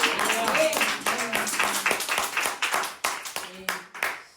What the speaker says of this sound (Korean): 우리가 할 수 있는 최고의 감사의 박수와 그리고 환호를 한번 드렸으면 좋겠습니다